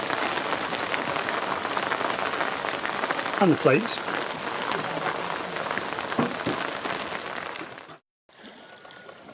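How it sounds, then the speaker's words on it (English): Steady rain drums on the deck of a sailing yacht during a thunderstorm, a dense wash of patter that cuts out abruptly near the end; a voice briefly speaks in between. "We've got thunderstorms, rain, at least we'll give the boat a wash"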